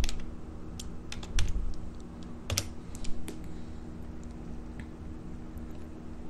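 Quiet clicking of a computer keyboard as a chat message is typed, a short irregular burst of keystrokes early on, then a few scattered taps, with no talking.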